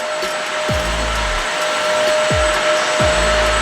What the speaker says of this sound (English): Maybe I'll kind of just wet vacuum the floor.